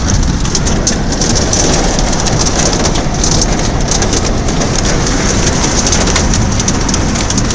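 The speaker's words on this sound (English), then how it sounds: "Oh, holy shit, we're getting hail." Hail pelts a car during a storm at a crowded outdoor event, a loud, dense, continuous rattle of stones striking the body and roof with no talking.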